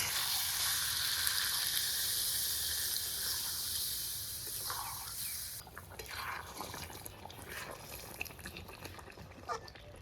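Chicken sizzles steadily in a hot pan just after roasted cumin powder is sprinkled over it, a dense hiss that drops off partway through, leaving quieter stirring and bubbling.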